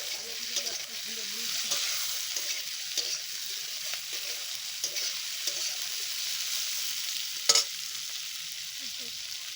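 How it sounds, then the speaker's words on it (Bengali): Drumstick pieces and slit green chillies fry in a pan with a continuous close sizzle, broken by occasional stirring scrapes and one sharp metallic clank. "সজনে ডাঁটাগুলো একটু ভেজে নিতে হবে তারপরে আমি দিয়ে দিচ্ছি চেরা কাঁচা লঙ্কা"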